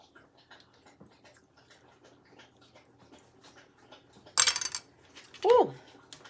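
Metal spoons clink in a glass taste-test jar in a home kitchen, two brief bright rattling bursts standing out against quiet background noise.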